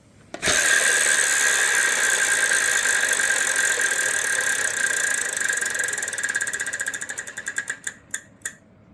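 A large carnival-style prize wheel on a 1995 Wheel of Fortune game show set at Walt Disney World clicks rapidly past its pegs, loud and close, then slows into spaced ticks before stopping.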